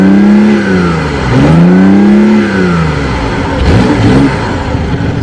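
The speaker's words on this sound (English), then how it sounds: "the sound of the gas motor is pretty aggressive for a 3-cylinder" A loud, close BMW i8 hybrid sports car's three-cylinder gas engine revving up and down repeatedly, rising and falling in pitch with a raspy, aggressive tone.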